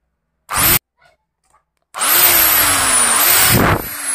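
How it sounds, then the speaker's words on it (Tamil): An electric drill bores a water inlet hole, centred, in the housing of a homemade 12V DC motor water pump: a short burst, a pause, then a long steady whine with a changing pitch, loud and close. "தண்ணி இன்புட் வர்றதுக்காண்டி ட்ரில் போட்டுக்கிறோம்"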